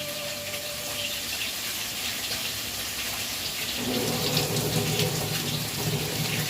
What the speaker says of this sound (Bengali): দুশো গ্রাম চালকে আমি ভালোভাবে ধুয়ে নিচ্ছি